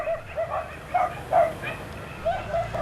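Dogs barking in repeated short yaps during the capture of Xanana Gusmão, the bursts irregularly spaced, moderately loud and somewhat distant over a hissy background, with no speech.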